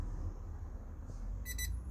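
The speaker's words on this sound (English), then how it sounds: "beeps twice" An RF reader on a push-to-start system installed in a 1989 Toyota 4Runner V6 gives two quick high beeps over a steady low hum inside the vehicle.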